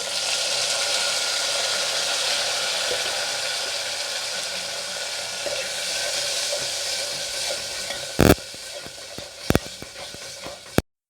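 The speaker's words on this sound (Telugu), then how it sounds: "ఆనియన్స్ బాగా ఫ్రై అయిన తర్వాత ఇప్పుడు టమాటా ప్లస్ ఉప్పు వేసేసుకోవాలి" Tomato and salt frying with onions in a pan, stirred steadily with a continuous close sizzle, then a few sharp loud knocks of the spoon against the pan near the end.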